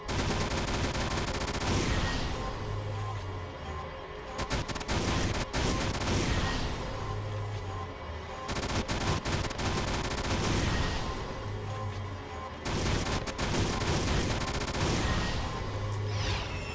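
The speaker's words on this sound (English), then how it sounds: "Oh, another heavy Gatling." Heavy Gatling gun fire in Valkyria Chronicles, a loud sustained rattling barrage in repeated long bursts separated by short pauses, with booming low impacts and dense crackle filling the stretch.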